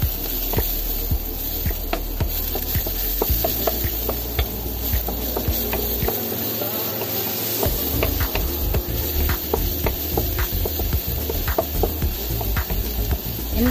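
Garlic sizzles in hot cooking oil in a pan for Filipino bam-i fried noodles, a steady, dense crackling hiss that runs unbroken and fairly loud throughout.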